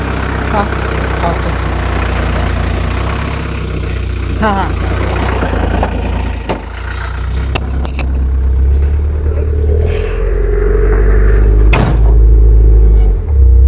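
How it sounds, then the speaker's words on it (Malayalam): A truck hauling a load of sand on an Indonesian island runs close by, its engine idling and revving in a steady rumble for over ten seconds, mixed with background noise and occasional voices. "എനിക്കൊരു ലോഡ് കൊണ്ടുപോകുന്ന മണലാന്ന് തോന്നുന്നു ഒരു വണ്ടി കിട്ടി"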